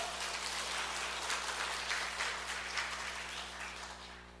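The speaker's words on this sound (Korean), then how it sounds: "우리 다시 한번 하나님께 영광으로 박수 올려드립시다" A church congregation applauds in a steady, dense wash of clapping that holds for several seconds, then gradually fades near the end.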